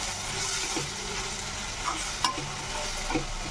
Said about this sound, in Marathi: इथे आपण टोमॅटो आणि मेथी शिजेपर्यंत याला होऊ देणार तेलामध्ये